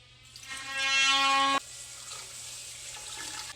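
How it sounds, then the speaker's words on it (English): Water runs steadily into a cooking pot holding chicken with bouillon, bay leaves and half a stick of butter, a close, loud pour lasting about a second before it cuts off, leaving a quiet kitchen hum. "we're just going to cover the chicken with water"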